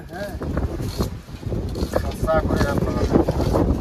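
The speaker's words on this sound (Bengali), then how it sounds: "বাইরে যে হাওয়া হচ্ছে" Steady outdoor wind rushes and buffets against the microphone beside a river in the Sundarbans, a low rumbling roar that swells and dips throughout, with voices faintly mixed in.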